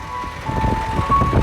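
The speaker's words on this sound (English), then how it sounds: "And that sound you hear is the noon chime." A town's noon chime in Japan rings out over the streets as a steady, sustained melodic tone, with traffic rumbling faintly underneath.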